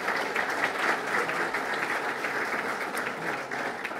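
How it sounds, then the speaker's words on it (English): A township business audience applauds the local Chamber at a morning State of the Township event, giving steady, dense clapping that holds evenly for the whole stretch, with no talk over it. "Let's give them a round of applause."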